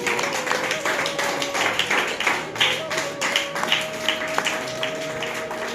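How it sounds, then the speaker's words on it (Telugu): An audience claps at a gospel gathering in Cherukupalli as a saree is presented as a gift, a steady patter of hand claps sustained throughout with voices mixed in. "చప్పట్లు తట్టండి"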